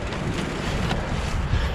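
Cold wind gusts steadily outdoors on a ledge near a cave entrance, a continuous low rumbling buffet of wind against the microphone with no speech.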